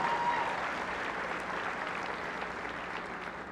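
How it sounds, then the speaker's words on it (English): Audience applause at a community college graduation ceremony, a dense, steady wash of many hands clapping that fills the room and fades slightly over a few seconds, with no voices rising above it. "Let's give her a hand clap."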